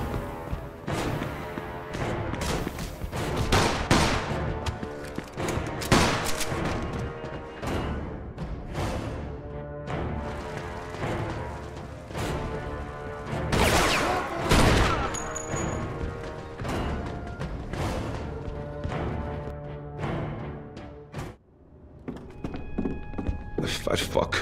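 Gunfire in Mafia 2 rings out as repeated sharp shots and bursts, loud and close, scattered irregularly through a long stretch of dense action sound with brief pauses.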